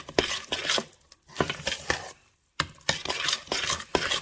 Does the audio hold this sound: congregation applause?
no